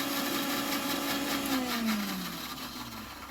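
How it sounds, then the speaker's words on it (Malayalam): An electric mixer grinder whirs loudly up close as it blends ingredients, its motor pitch sliding downward as it winds down near the end. "അതിന് ശേഷം നമുക്കത് മിക്സിയിലിട്ടൊന്ന് അടിച്ചെടുക്കാം കേട്ടോ"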